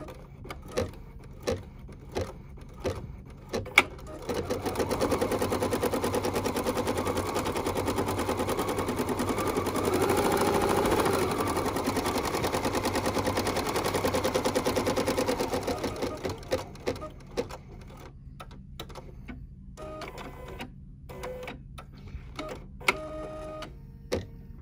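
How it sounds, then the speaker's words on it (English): Scattered clicks and taps give way to about twelve seconds of a sewing machine running steadily, stitching a cherry cola outline in red thread, before it stops and sharp handling clicks resume. "I'm gonna go ahead and stitch the cherry cola outline stitch down on the machine"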